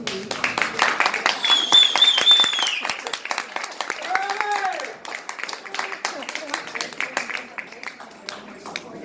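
An audience applauds at a book signing at Barnes & Noble, Union Square in New York City. Steady clapping runs throughout, mixed with voices and some bursts of music or tonal sound.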